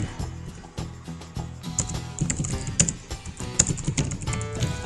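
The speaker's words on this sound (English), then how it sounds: "I'm just going to type in" Keyboard typing runs throughout, dense irregular clicks close up, mixed with steady tonal background music and no speech.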